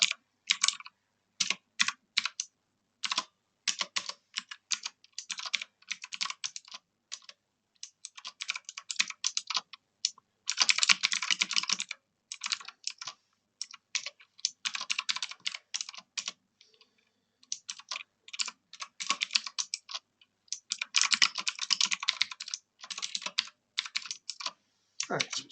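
Fast, steady typing of HTML code on a computer keyboard, close and clear: continuous clattering keystrokes in bursts with short pauses, alone and with no talk.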